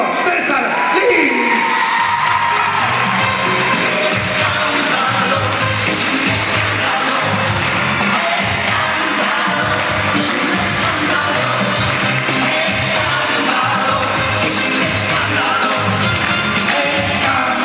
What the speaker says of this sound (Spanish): ¡Otro aplauso para Julio César Lin!